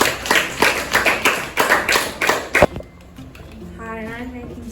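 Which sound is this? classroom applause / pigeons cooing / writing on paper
classroom applause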